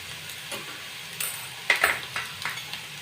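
Chopped onion fries in a pan as a spoonful of turmeric powder goes in, a soft steady sizzle under a few sharp spoon clinks and scrapes against the pan, close by, with no speech.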